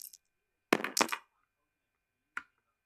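Plastic dice rolled during a Star Trek Alliance tabletop game, a short clattering burst of several sharp clicks followed later by a single small knock, with quiet pauses between.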